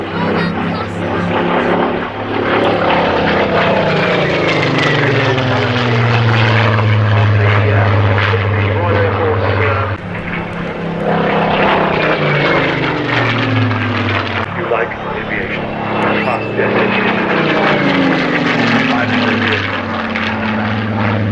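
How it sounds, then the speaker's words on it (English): A Spitfire Mark 19 flying at an airshow, its propeller engine droning loud and steady with a rising and falling pitch as it passes, and a commentator talking over it. "here she is, the Spitfire Mark 19"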